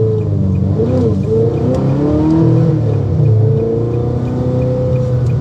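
Ferrari 355 or 360 fitted with a Capristo exhaust accelerating, a loud close engine note climbing and shifting pitch through the revs, steady and unbroken.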